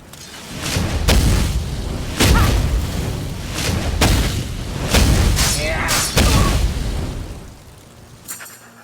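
Fire spells go off in the game Oblivion as a string of loud, booming bursts, about five heavy blasts spaced a second or two apart, each trailing off in a rumbling roar before the next.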